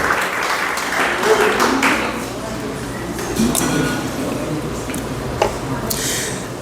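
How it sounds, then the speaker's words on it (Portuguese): Church congregation clapping together in praise, a full sustained round of applause with some scattered voices mixed in, fading slightly toward the end with a few sharper individual claps. "Vamos aplaudir o nome do Senhor"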